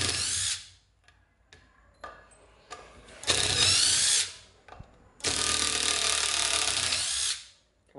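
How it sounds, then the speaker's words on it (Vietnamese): Cordless impact driver from a Japanese domestic-market drill and driver set, hammering loudly in two long sharp rattling bursts while driving screws, with short clicks and pauses between runs. "Các bạn nghe cái tiếng búa nó gõ chát chát luôn nha"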